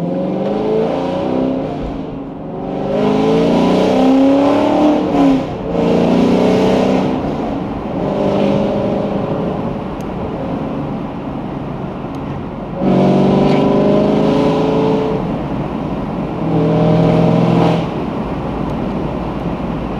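A 2020 sixth-generation Chevrolet Camaro SS is driven at full throttle on a road: a loud, close engine roar rises through several gears, with short dips at each upshift and a fading tail after the pull.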